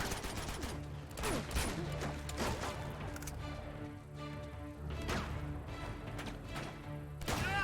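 Gunfire in the video game Uncharted: Among Thieves, a dense run of sharp shots, impacts and crashes that comes in bursts over continuous game background sound, with no talk.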